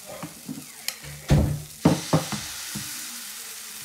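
Banana fritter batter drops into hot oil in a pan, a few sharp splashes and spits rising into a soft, fading sizzle, with quiet gaps between them.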